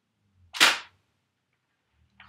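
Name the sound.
Nerf N-Strike Recon CS-6 blaster firing dart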